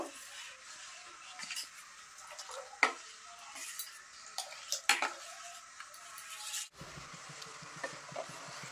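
Orange peel and honey mixture heating in a pan, a quiet hissing bubble with scattered clinks and scrapes of a spoon against the pan, ending in a faint steady simmer.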